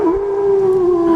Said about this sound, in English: A lone howl sounded outside my window